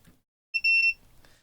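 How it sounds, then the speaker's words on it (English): A multimeter in continuity mode gives one short, steady electronic beep lasting under half a second, clear and close, with quiet handling noise before and after. "which is the mode that beeps when we have a complete circuit"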